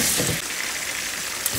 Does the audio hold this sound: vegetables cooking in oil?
yes